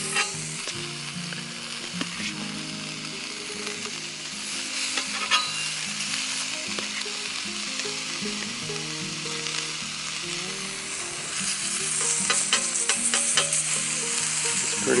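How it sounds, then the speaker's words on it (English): Homemade bacon sizzles steadily on a hot cast iron griddle over a campfire, a dense, even crackle and hiss throughout with small pops and a slightly louder stretch toward the end. "Go ahead and start putting on our homemade bacon."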